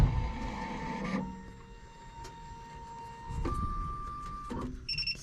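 A key cutting machine, used on an ignition key for a 2006 Honda Ridgeline, runs quietly with a whirring motor hum and faint clicks and shifts in pitch, close by and otherwise alone.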